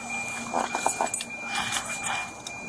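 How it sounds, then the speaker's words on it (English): Car keys jangle quietly in short metallic bursts, a few quick clinks near the start and more scattered rattles after, close by and faint. "Just take the car key."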